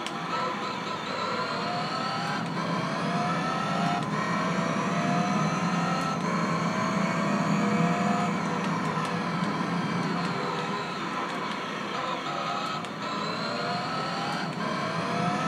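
Race car in Gran Turismo 3 on PlayStation 2, a continuous engine drone with shifting revs and overpowered, spinning tyres, steady and fairly loud with no voices.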